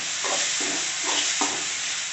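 Tomato masala with a little salt is stirred and sautéed in a pan for crab gravy. A constant sizzle carries four rhythmic scraping strokes of the spoon, close and fairly loud.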